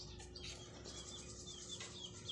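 Soft, high chirping peeps from young birds scattered through a steady background hum, with a brighter peep near the end.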